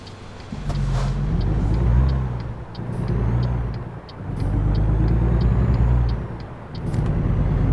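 Simulated road traffic in American Truck Simulator: cars and trucks rumble past in long swelling waves of engine noise, with faint rhythmic ticking above, steady and fairly loud, no talk.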